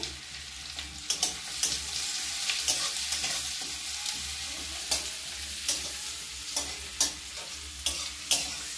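Chopped onion and chilli tempering stirred and fried in a hot pan, a steady sizzle under repeated sharp scrapes and clacks of the spoon, close and fairly loud, with no talking.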